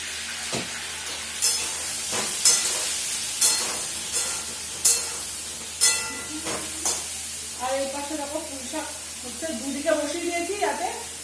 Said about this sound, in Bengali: তেল ছিটকে যায় তেল